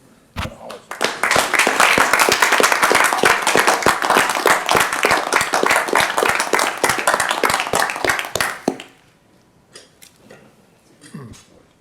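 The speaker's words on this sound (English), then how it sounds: "signify your affirmation by rising with me and applauding Mr. Brown" A board meeting audience rises and applauds Mr. Brown, a sustained burst of many hands clapping that swells quickly, holds steady and fades out near the end, leaving a few scattered claps and faint room noise.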